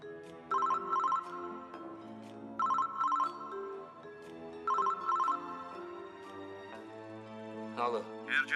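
Phone ringtone plays a repeating electronic melody in three bursts, moderately quiet, with a brief voice at the close.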